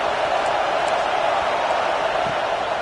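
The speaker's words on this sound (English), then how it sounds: "this crowd trying to help keep them there" A football stadium crowd roars in a steady, dense wash of noise that stays loud and unbroken throughout, with no clear individual voices standing out.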